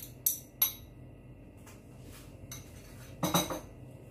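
Eggs stirred with a metal utensil in a bowl before being added to cottage cheese, giving a few sharp clinks near the start and a louder scraping cluster toward the end, with quiet gaps between.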